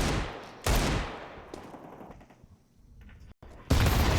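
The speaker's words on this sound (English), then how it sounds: "it's EliGE to hit the headshot." Gunfire in a professional Counter-Strike match on the Ancient map: loud bursts of rifle shots open and close the moment, with quieter in-game noise between them.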